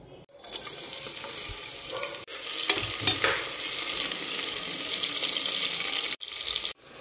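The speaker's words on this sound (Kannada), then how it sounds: "ಒಂದು ಕುಕ್ಕರಿಗೆ ಸ್ವಲ್ಪ ಎಣ್ಣೆ ಹಾಕ್ಕೊಂಡು ಅದಕ್ಕೆ ಈರುಳ್ಳಿ ಸ್ವಲ್ಪ ಅರಿಶಿನ ಹಾಕ್ಕೊಂಡು ಫ್ರೈ ಮಾಡ್ಕೊಬೇಕು." Onion and turmeric fry in oil inside a pressure cooker, giving a close, crackling sizzle with stirring. It cuts out briefly twice.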